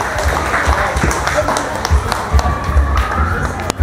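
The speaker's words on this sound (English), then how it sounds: "A big round of" A crowd at a school event applauds, with dense clapping mixed with taps and some cheering, fairly loud and close, and voices in the background.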